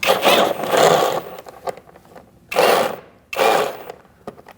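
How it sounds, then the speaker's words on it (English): An 8mm socket wrench backs out an aftermarket bolt holding the front inner fender liner of a 2008–2014 Mercedes-Benz C300, heard as three bursts of fast ratcheting clicks close up, separated by short pauses with lighter clicks. "Now we're going to remove this bolt here."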